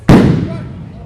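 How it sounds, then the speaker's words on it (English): A single sharp, very loud bang from a Le Maitre theatrical stage pyrotechnic flash bursts out close by, followed by a long rumbling decay that fades over a second. "So this is the theatrical flash extra loud report."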